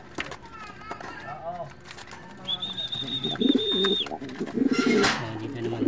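Pigeons cooing nearby in a home bird enclosure, soft throaty coos repeated several times, mixed with a high whistle-like tone and background noise while people talk.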